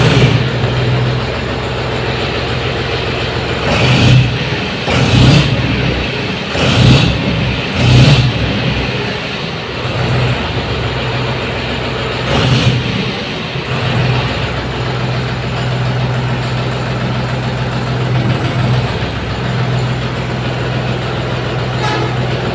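A 2025 John Deere 5042 D Gear Pro tractor engine runs with a loud, steady, throbbing idle, rising in several short revving bursts partway through, with no talking over it.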